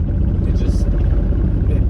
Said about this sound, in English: it's very clearly misfiring